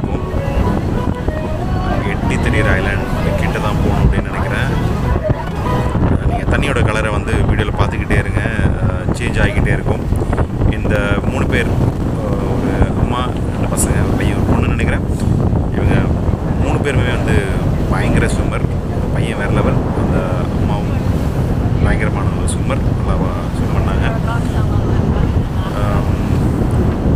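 Speedboat racing across open deep-blue sea from Phuket toward the Phi Phi islands in Thailand, with constant loud wind buffeting the microphone and roaring engine and splashing water throughout, voices talking over it.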